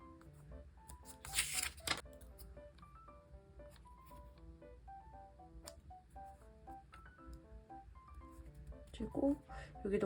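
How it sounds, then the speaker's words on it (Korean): Printed paper text is snipped out for journaling, with short crisp bursts of cutting at the start and again near the end over soft background music. "여기 문구를 한번 잘라서 괜찮으면 써볼까 봐요."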